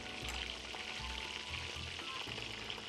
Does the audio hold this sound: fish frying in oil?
yes